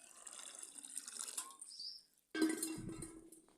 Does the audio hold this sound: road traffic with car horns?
no